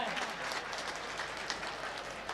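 Welcoming applause for guests at a Saraswati Puja celebration, a brief burst of crowd clapping heard from a distance, steady and fairly soft with a few distinct claps poking out.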